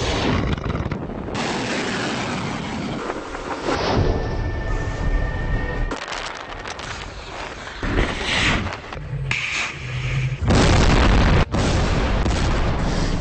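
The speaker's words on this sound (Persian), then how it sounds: "در ادامه موشک‌های شناوری سطح به سطح هم شلیک شد." Surface-to-surface missiles launched during a naval military exercise in the Persian Gulf, heard as a series of loud booming blasts and roaring bursts, several separate impacts across the stretch with a sustained rumble between them.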